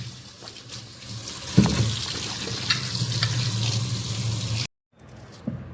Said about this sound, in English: we will wash this vegetable